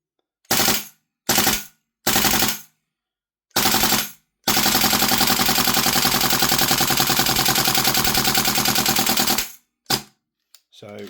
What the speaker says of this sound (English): Show you the blowback of this thing.